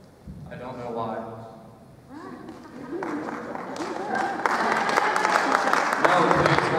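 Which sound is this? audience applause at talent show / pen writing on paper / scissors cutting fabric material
audience applause at talent show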